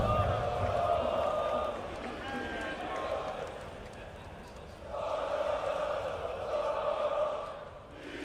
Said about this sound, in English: Only the sound of the crowd can be heard. The chants, the screams, everything.